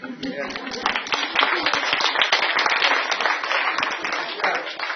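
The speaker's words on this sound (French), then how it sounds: "Applaudissez-le quand même." An audience at a Jewish Hilloula celebration claps and applauds steadily for several seconds, a dense patter of many hands at close range with some voices mixed in.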